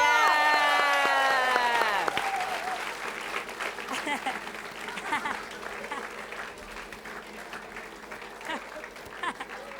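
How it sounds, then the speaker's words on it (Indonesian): Studio audience applause and cheering on an Indonesian TV game show, breaking out after a sung or musical opening and carrying on as a broad, steady crowd wash with voices mixed in. "kita kasih tepuk tangan dulu dong"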